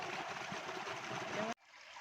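Water rushes and trickles steadily as a tilapia pond is drained, a close, even flowing wash that cuts off abruptly, leaving a fainter hiss.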